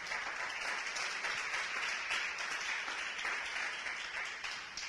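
A church congregation claps hands together in a steady, dense wash of applause that holds strong throughout, fairly distant and reverberant, with no clear speech over it.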